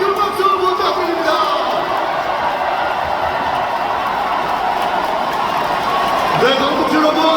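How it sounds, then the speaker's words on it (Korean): Crowd at a Democratic Party national convention in a Daejeon convention hall applauding and cheering candidate number 7, a loud continuous roar of clapping and voices filling the space throughout. "기호 7번 박수로 후보에게 다시 한번 큰 박수 부탁드립니다."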